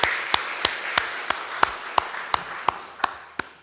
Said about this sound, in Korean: 우리 수고하신 분들 많은데 박수로 환영하면 좋겠습니다.